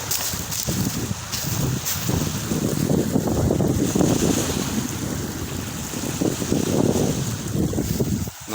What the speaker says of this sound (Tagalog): mahangin ngayon mga idol pag ganitong tag-init.